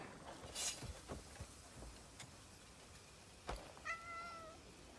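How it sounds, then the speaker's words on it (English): A cat in the video game Crimson Desert gives a single short meow near the end, faint, after scattered soft ticks and taps in a quiet scene. "We're taking a cat with us on an adventure."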